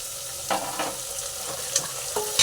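Cut tomatoes fried in a pan for a dal dish and stirred, with a soft continuous sizzle and a few light scrapes and clinks of the spoon, close and without talk.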